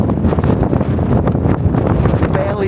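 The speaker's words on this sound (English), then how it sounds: "It's windy." Strong wind of 27 to 28 mph buffets the microphone at a wild camp in Scotland in a constant, heavy roar with gusty rumbling throughout.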